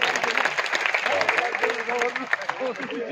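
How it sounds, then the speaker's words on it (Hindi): Audience applause at a kavi sammelan poetry gathering in Malpura, a dense wash of clapping from a crowd, steady and fairly loud, running under a voice on the microphone throughout. "जरा जोरदार तालियां एक बार उठा दीजिए।"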